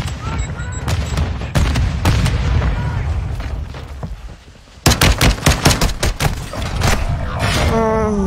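Warzone 2 gameplay with a thrown grenade going off among loud, close bursts of gunfire, sharp cracks coming in rapid clusters before and after a brief lull.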